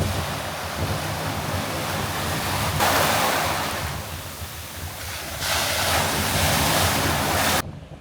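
Ocean waves surge at Worthing Beach, Barbados, a loud, broad roar of surf swelling and receding in two big washes, mixed with wind buffeting the microphone and no voices.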